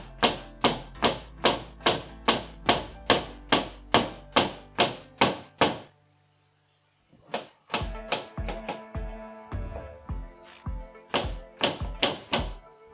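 Steady, sharp tapping blows on screen door frame corners repeated about twice a second, a brief silence, then another run of knocks with a deeper, thumping tone, close up.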